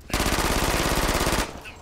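Rapid automatic weapon fire from the multiplayer shooter Brink, a sustained burst of evenly spaced shots lasting over a second, loud and close, then cutting off.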